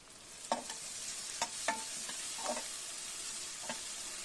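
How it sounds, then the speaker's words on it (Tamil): Onions sautéing with salt in a pan for a Tamil brinjal and potato stir-fry, a steady soft sizzle broken by several scraping stirs of a spatula, fairly faint and with no talking. "உப்பு சேர்த்து வதக்கலாம்"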